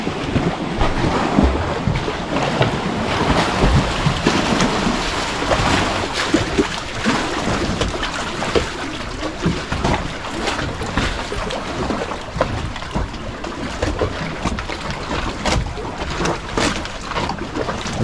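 Water slapping and splashing against a boat on a Swiss lake, a continuous loud wash with wind buffeting the microphone throughout and no one speaking.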